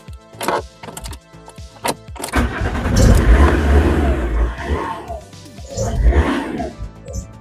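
Fiat Marea 130HLX car engine started and driven off, rising from a few clunks into a loud, rough revving roar that swells and falls, close by, with people talking over it.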